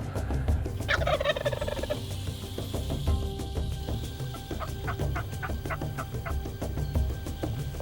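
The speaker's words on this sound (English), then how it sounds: "The turkeys gobble." Wild turkeys gobble on a spring morning in the woods, with a loud rattling gobble early on followed by further calls and clucks at moderate distance, and no talk over them.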